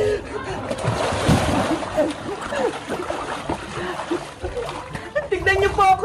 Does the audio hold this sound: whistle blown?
no